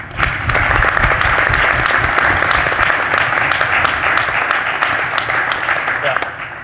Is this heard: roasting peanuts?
no